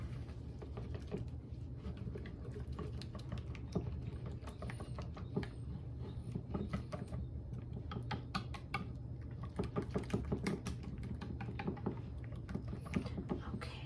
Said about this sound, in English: And then you just whisk it up.